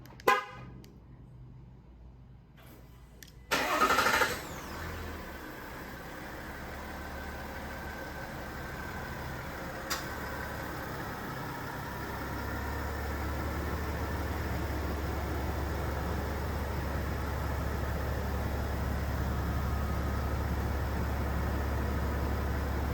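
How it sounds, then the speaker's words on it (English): 2021 GMC Sierra 1500 with the 3.0L Duramax diesel and factory intake, remote started: a horn chirp, a cranking burst, then a steady low diesel idle heard from nearby outside, with no talking. "I'm gonna go ahead and just remote start it real quick so you guys can hear what it sounds like with the factory"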